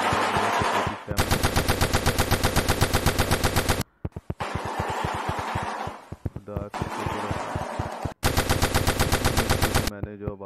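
Shoebill stork's rapid bill-clattering call, a loud machine-gun-like staccato rattle repeated in long bursts with brief gaps, interspersed with a voice speaking between bursts.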